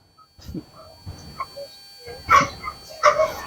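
A dog barks in four separate sharp bursts spread over a few seconds, fairly close, with short quiet gaps between them and no talking.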